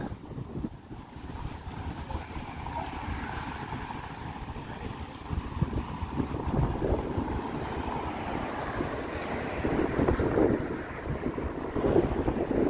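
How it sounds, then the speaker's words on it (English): Strong wind buffets the microphone outdoors on an evening walk in downtown Toronto, with a loud, continuous rumbling roar that swells and gusts throughout and no talk. "Good grief, the wind."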